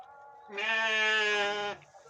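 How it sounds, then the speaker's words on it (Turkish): A single black goat lets out one long, wavering bleat, close and clear, lasting just over a second against a quiet background. "bunların hepsi bildiğimiz kara keçi değil mi Murat?"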